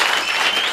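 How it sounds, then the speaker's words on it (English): Brief burst of dense audience applause at a business strategy workshop in Bochabelo, Free State, loud and continuous, a hiss of many hands with no gaps. "let's give Prakeke a round of applause as it goes off the podium"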